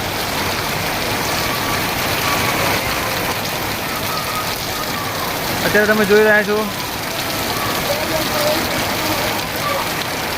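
Heavy rain pours down in strong wind during a downpour in Bodeli, a dense, continuous hiss of rain beating on surfaces, while someone speaks briefly near the middle.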